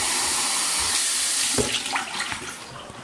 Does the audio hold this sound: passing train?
no